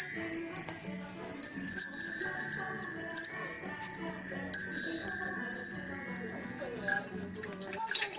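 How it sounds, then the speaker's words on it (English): Hanging chimes on a baby activity mat tinkle and jingle continuously as an infant bats at them with his hand, bright metallic tones overlapping close by with no talking. "He moves the chimes with his right hand while wiggling his feet and toes."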